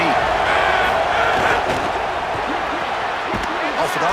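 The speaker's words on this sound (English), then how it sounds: "Listen to the crowd energy here in the early going" Stadium crowd roaring in a college football video game, a steady loud wash of cheering and yelling that holds throughout, with a commentator talking over it.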